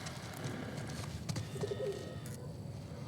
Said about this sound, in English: I think it's pigeons. I hear it.